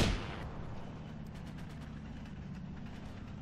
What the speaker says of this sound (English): I don't know, but I'm gonna shoot